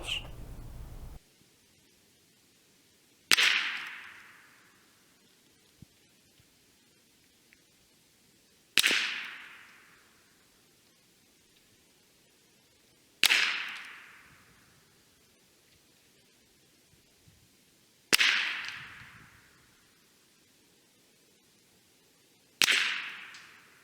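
CCI green label .22 rounds fired from a Remington 581 rifle, five sharp cracks spaced a few seconds apart, each with a short fading tail, with quiet between shots.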